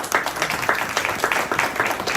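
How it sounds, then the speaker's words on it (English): An audience at a District 17 town hall meeting claps steadily and fairly loudly, an even patter of many hands sustained for a couple of seconds. "and that deserves a round of applause for you all."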